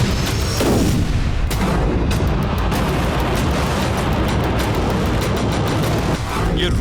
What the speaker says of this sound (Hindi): ये रूसी सेना के लवीव पर किए गए हमले।